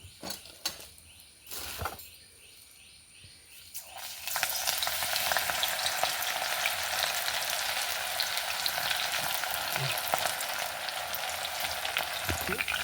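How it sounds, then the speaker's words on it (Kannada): Banana flower fritters dropped into hot oil: a few knocks and quieter moments, then a loud, continuous crackling sizzle of deep-frying that holds steady for the remaining eight seconds. "ಇದನ್ನೀಗ ಎಣ್ಣೆಗೆ ಹಾಕೊಂಬ, ಎಣ್ಣೆ ಬಿಸಿಗೆ ಇಟ್ಕೊಂಡಿದ್ದೆ ಇಲ್ಲಿ."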